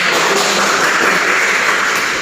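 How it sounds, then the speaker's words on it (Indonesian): Steady, dense applause from a classroom of students after a debate on environmental damage, loud and continuous for the whole stretch without a break. "Mari kita tepuk tangan."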